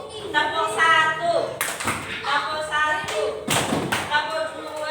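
Children in a third-grade classroom clapping on cue during an opening activity, sharp claps under near-constant speech and a teacher's voice.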